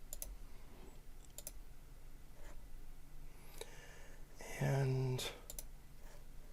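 Keys on a computer keyboard are pressed in short, scattered clicks while software is set up, fairly faint against room noise, with a brief spoken word and a louder burst of sound near the end.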